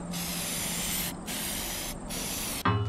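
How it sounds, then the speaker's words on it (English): Spray paint in John Deere green hisses onto the inside of a ballast box in three close, continuous bursts separated by short gaps, ending with a faint clunk. "I'm gonna hit it with a little bit of paint just to cover it up so it doesn't rust in there."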